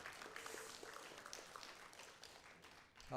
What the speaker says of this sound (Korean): 크게 박수 부탁드리겠습니다.